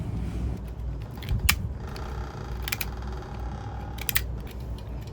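Dirty zippers on a liveaboard boat being scrubbed clean, producing brief scratchy clicks and rasping strokes in irregular bursts over a steady low background hum.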